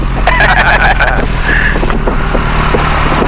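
Diamond DA40 aircraft engine running near 1,000 RPM, a steady low droning hum under cockpit voices talking throughout.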